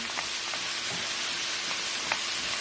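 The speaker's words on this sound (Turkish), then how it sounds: "Salçayla da biraz kavuruyoruz." Tomato paste frying with peppers and onions in a pan for a Turkish green bean and ground meat dish, a steady close sizzle with soft crackles and faint stirring.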